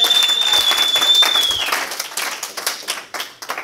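A round of applause from the audience at a GanoLife opportunity meeting, sustained clapping under a held tone that thins into scattered individual claps and stops.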